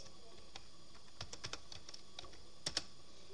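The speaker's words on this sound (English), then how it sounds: "that's a bunch of typing" Quick, light clicks of typing on a computer keyboard, irregular bursts of keystrokes with a couple of sharper taps near the end, close and quiet against a faint room hiss.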